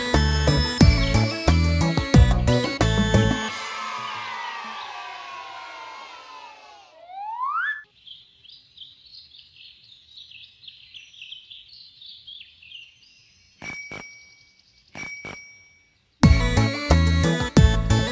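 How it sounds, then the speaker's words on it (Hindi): A bicycle bell rings a few quick times in a quiet gap between bursts of loud music in a children's cycle rhyme, after a stretch of chirpy, whistling tones. "ट्रिंग ट्रिंग घंटी बजाती जाए।"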